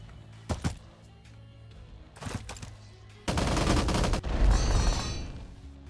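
Gunfire in the strategy game Empires Shall Fall as troops attack mortar positions: a few scattered sharp shots, then a dense, sustained burst of rapid fire dominating the latter half.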